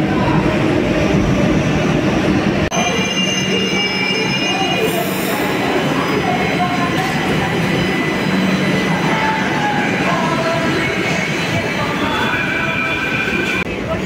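A metro train rumbles loudly into Dum Dum metro station in Kolkata, wheels squealing in long high tones over a steady heavy roar, with faint voices underneath.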